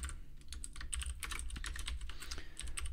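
Steady, fast typing of code on a computer keyboard, close and continuous, with dense overlapping key clicks over a low background hum and no talking.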